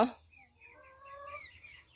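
A chicken clucks softly nearby, a short run of rising, drawn-out calls after a brief sharp sound at the start, over low background hum.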